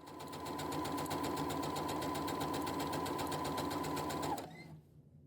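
A sewing machine runs one continuous gathering row across a dress skirt, its rapid even needle rhythm loud and close for about four seconds before stopping abruptly into near silence.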